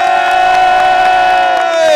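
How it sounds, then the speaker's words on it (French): A large crowd at a horse race roars, applauds and cheers loudly and continuously, a dense wash of voices with a steady sustained tone running through it. "Et c'est Beaumari, sous les applaudissements du public."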